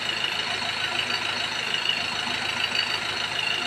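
A Ford Ranger engine runs smoothly after a rocker arm repair, a steady mid-pitched idle that holds even and unbroken throughout, with no talking.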